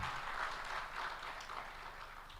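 Audience applause for the chief executive of the Dar es Salaam Stock Exchange at a forum celebrating its 30 years, a steady, fairly quiet wash of clapping from a crowd lasting a couple of seconds with no talk over it.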